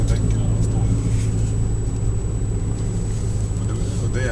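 Steady low engine rumble from inside a Saab 9000 while driving, a constant droning hum with road noise and no pauses, loud and close throughout.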